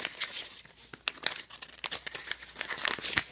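Material for a handmade pencil case is folded and crinkled up close, with irregular sharp crackles and rustles over a few seconds and no voices.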